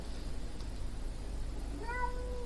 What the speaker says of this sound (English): there's a cat that's meowing outside.